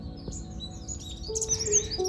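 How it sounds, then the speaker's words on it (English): Sunbirds in bougainvillea trees near a lake outside Bangalore give thin, high chirps and short whistled notes, several overlapping, at moderate distance over a low outdoor hum. "so many sunbirds are chirping in this bougainvillea trees"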